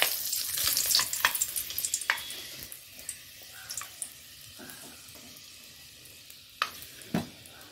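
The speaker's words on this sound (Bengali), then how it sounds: "তা এবার তেলটা আমার গরম হয়ে এসছে, একটু ফোড়ন দিয়ে দেবো।" Fenugreek seeds, dried red chilli and bay leaf hit hot oil in a home kitchen, giving a soft, close sizzle with scattered pops and clicks, fairly quiet throughout.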